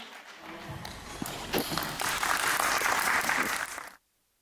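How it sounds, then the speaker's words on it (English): Guests at a venture-capital opening event applaud as a speaker is invited to the stage. The crowd claps loudly and continuously, the sound building and holding strong before cutting off abruptly. "A big round of applause, everyone."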